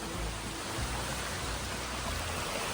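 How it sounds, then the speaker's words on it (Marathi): Water rushes steadily through an opened channel in a Kokan rice field, a dense, even roar of flowing water heard close and alone for a few seconds. "हे बघा आता एका बाजूने मी पाणी ओपन केलं तर लगेच पाण्याचा स्पीड वाढला बघा."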